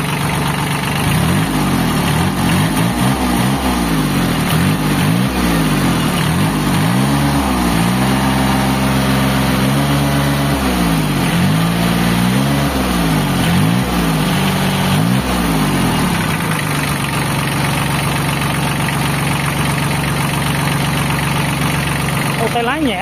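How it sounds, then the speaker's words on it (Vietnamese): A used Japanese Kubota tractor's diesel engine starts and settles into a steady idle, its throbbing pulses rising and falling before evening out into a constant close rumble, with people talking over it. "mở máy lên đây, lên đây. Wow, động cơ quá vip, không xả gió luôn ha"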